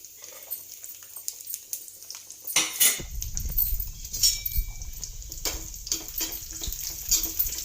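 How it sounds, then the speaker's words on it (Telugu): Cashews and raisins fry in a pan over a low gas flame, a soft steady sizzle that starts about three seconds in. Light clinks of a spoon and stirring sit on top of it, close by, and no one speaks. "మాడకుండా వేయించుకుందాం సిమ్లో పెట్టుకొని"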